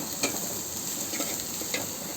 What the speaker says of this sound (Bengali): আমি এখানে পরিমাণ মতন পেঁয়াজ কুচি নিয়ে ভালো করে নাড়াচাড়া দিয়ে নিচ্ছি